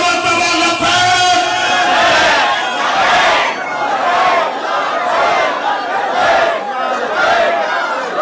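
A large crowd at a religious rally shouts the slogan Labbaik in loud, rhythmic unison, repeated chants swelling and falling with a dense roar of many voices throughout.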